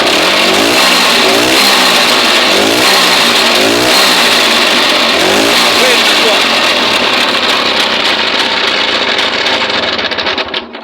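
A small carburetted engine runs on gas fed from a stove regulator, revving and surging unevenly close by for about ten seconds before easing off at the end; there is no speech over it.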